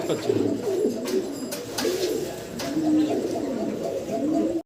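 Pigeons coo in a steady, overlapping murmur close by, with a few sharp higher calls and brief rustles mixed in, sold in pairs as racing birds.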